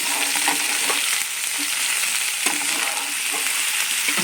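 Bottle gourd pieces fry in a pan with turmeric for a chutney, giving a continuous close hiss and crackle with occasional spoon scrapes, steady and loud with no talking.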